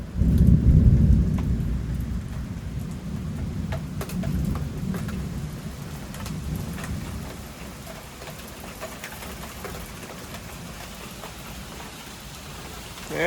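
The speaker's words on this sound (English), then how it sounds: "Here comes the rain." Heavy rain pouring during a thunderstorm, a steady loud wash of drops on surfaces with deep thunder rumbling early on, then easing to a constant downpour hiss.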